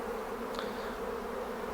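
Honey bees buzz in a steady, droning hum during a mid-July hive inspection, a constant close swarm sound with no talk over it.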